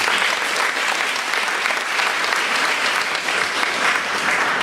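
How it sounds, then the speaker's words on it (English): An audience at an indoor Pink Dot launch event bursts into steady, dense applause, sustained and fairly loud throughout with no pause. "Please give them a round of applause."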